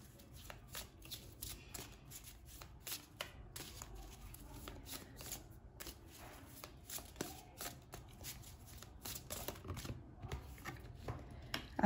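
A deck of oracle cards, a goblin-themed deck, is shuffled by hand in quick, uneven bursts of dry riffling and slapping, close up and fairly quiet.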